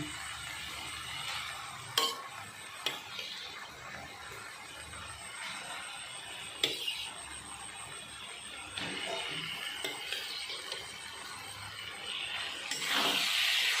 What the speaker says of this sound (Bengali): সব লাউগুলো দিয়ে এভাবে নেড়ে নিচ্ছি